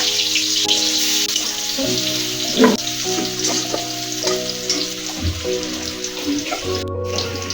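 Spice-coated eggplant slices frying in hot oil in a home kitchen, a loud, continuous crackling sizzle close by with a few spatters and faint clinks of a utensil.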